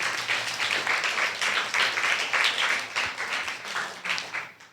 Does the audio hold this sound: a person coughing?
no